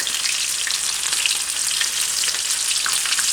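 Shrimp frying in a pan of hot oil make a loud, continuous crackling sizzle that holds steady throughout, close and alone.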